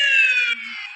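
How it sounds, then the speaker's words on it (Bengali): A police car siren in the Indian Bike Driving 3D game wails in a loud, steady electronic tone that drops abruptly to a thinner, quieter sustained note partway through. "পুলিশের গাড়ি আসবে, আমাকে উড়াই দিবে"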